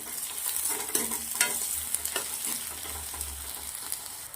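Finely chopped onions sautéing in hot oil with bay leaf pieces, whole garlic and four hot chillies, a close steady sizzle broken by scraping stirs.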